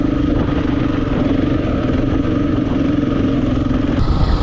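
A motorbike runs fast across beach sand, its engine a loud, steady, close drone that holds for a few seconds and then shifts abruptly near the end.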